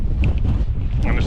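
Strong wind gusts on an exposed Peak District edge, a loud, continuous buffeting roar battering the microphone with uneven surges throughout.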